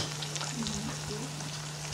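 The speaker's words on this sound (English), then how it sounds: "you can see that the grape juice is really boiling now" Grape juice boils hard in a pan, a steady close bubbling and sizzling hiss with a low constant hum beneath it and no talk.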